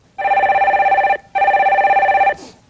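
A telephone rings twice as a caller is put through on a Korean stock-market call-in broadcast, each ring a loud, warbling electronic tone about a second long, followed by a brief click.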